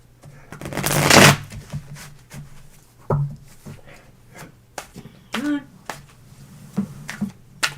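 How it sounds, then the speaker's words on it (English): A loud riffle of tarot cards, then softer shuffling, taps and card handling close by, with brief quiet gaps between the sounds. "Well, Sonny, where am I supposed to shuffle?"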